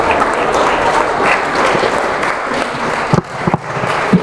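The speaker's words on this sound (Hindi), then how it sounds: "जोरदार तालियां अकरम साहब के लिए" Audience at a prize distribution ceremony clapping in a steady, dense wash of applause that holds for several seconds, fairly loud, with a few sharper claps near the end.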